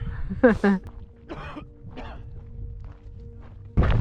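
A couple of harsh coughs near the mic, followed by quieter throat sounds and a sudden loud thump at the end.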